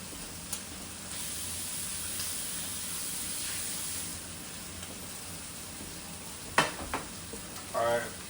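Steak sizzling in a frying pan, a steady hiss of hot fat throughout with a couple of sharp clatters near the end and a brief voice at the close.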